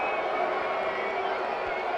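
Crowd noise at a Ballard FC vs Tacoma Stars soccer match, a steady distant roar of fans cheering, with a commentator's voice over it.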